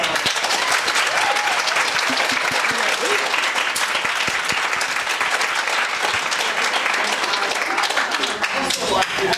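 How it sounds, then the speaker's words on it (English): A debate audience gives the panelists a loud, continuous round of applause, dense clapping filling the room from start to finish with a few murmured voices underneath. "Let's give our panelists a round."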